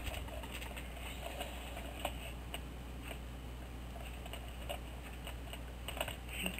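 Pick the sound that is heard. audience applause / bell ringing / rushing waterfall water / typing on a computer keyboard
typing on a computer keyboard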